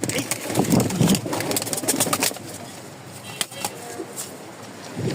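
Pigeons, including racers, Jacobins and Giribaz, coo softly nearby amid rustling and fluttering, with a low engine hum idling in the background.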